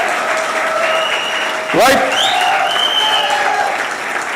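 Audience applause at an anniversary celebration, a loud, dense crowd clapping that carries on steadily throughout, with a voice briefly heard over it.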